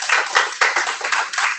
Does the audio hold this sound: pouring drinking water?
no